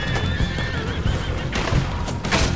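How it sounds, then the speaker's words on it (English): In Red Dead Redemption 2, frightened horses whinny loudly and shrilly during a gunfight, with hooves clattering as they bolt, close and prominent. "Now those horses are bolting."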